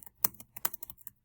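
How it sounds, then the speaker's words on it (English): Clicky keystrokes on a computer keyboard while typing notes into a OneNote notebook, a quick irregular run of about eight taps, close and fairly crisp, with no voices. "you could simply type notes"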